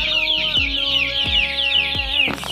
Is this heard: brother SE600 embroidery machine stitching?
no